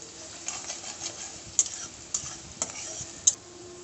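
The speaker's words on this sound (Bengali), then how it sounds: "পেঁয়াজ দিয়ে দেবো, পেঁয়াজটাকে একটু লাল করে ভেজে নেব।" Onion frying in a pan, browning to a reddish colour, with a steady soft sizzle and a few sharp clicks of a spatula against the pan, close and fairly quiet.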